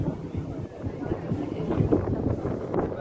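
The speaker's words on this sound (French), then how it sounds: "Il y a un peu de vent." Wind gusting across the Saint-Malo harbour full of boats, a steady low rumble of buffeting against the microphone with people talking faintly underneath.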